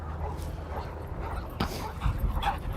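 Police K-9 dog during bite-command training, giving short whimpers, yips and a small bark at close range over a low background rumble.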